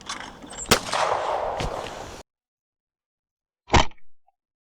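A shotgun fired at a quartering-away clay target on a shooting ground: two sharp, loud close blasts with a rumbling tail, a sudden silence, then a third loud report.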